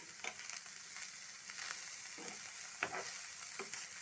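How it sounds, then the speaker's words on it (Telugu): Carrots and green peas fry in oil over a low flame, giving a soft, steady sizzle with a few light stirring scrapes and taps near the pan and no one talking. "వీటిని సిమ్లో పెట్టి మనము ఫ్రై చేయాలి"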